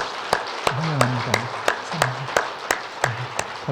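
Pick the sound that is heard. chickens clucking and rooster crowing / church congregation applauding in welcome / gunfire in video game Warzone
church congregation applauding in welcome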